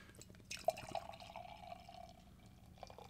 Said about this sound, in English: let's go ahead and get this poured here